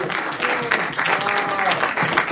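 Audience applause at a film premiere, steady dense clapping from a crowd, near and fairly loud, with faint voices mixed in.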